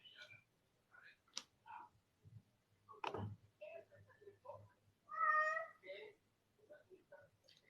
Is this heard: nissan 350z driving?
no